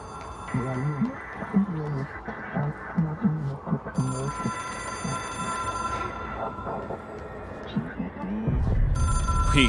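An old-style telephone rings in the video game Control, its bell sounding in repeated bursts while a voice talks over much of it.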